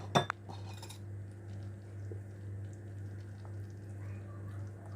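A utensil stirs grated cheddar into a white sauce in a pan. A couple of sharp metallic clinks come right at the start, then a faint, quiet scraping over a low background hum.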